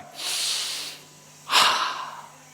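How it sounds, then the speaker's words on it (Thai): Breathing exercise with a long breath in followed by a slow exhale out through the mouth: two close, airy rushes of breath, the second stronger and fading gradually, with no talking. "ให้หายใจเข้ายาวๆแล้วผ่อนออกทางปากแบบห้าออกไป"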